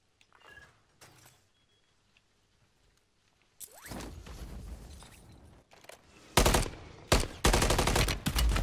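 Gunfire erupts in Call of Duty Modern Warfare 3, with a few faint distant pops early on, then loud close bursts of automatic fire with heavy, sharp blasts toward the end.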